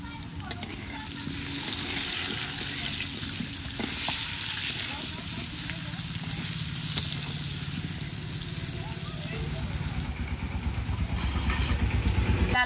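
Potatoes frying in a pan with salt and turmeric, a loud continuous sizzle broken by repeated scraping stirs, close up and steady throughout.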